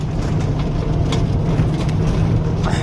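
A car travelling along the road near the bridge at Palagaon, heard from inside as a steady low engine and tyre rumble that continues evenly throughout with no talk.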